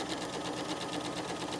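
A sewing machine runs steadily as it stitches the hem of a jacket, giving a fast, even mechanical chatter at close range with no break in the rhythm.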